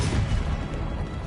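A Confringo fire spell explodes in Hogwarts Legacy with a dense, rumbling blast that stays loud and heavy through its short span.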